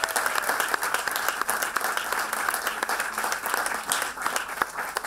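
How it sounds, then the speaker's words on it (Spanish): An audience applauds the teaching students at a concert, steady dense clapping with a few sharper claps standing out, sustained throughout at close range. "Un aplauso a ellos."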